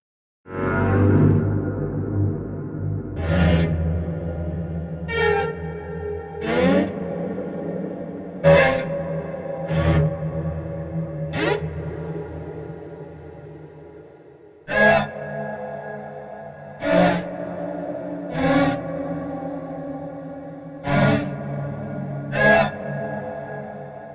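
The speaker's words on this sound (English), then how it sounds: "Amber has a rich collection of cello hits, scrapes, and bowed one-shots, which are a signature sound of horror composing" A series of sharp, resonant cello hits and bowed strikes from a horror-scoring sample library, about a dozen spaced irregularly, each ringing with a dark tail over a low sustained drone.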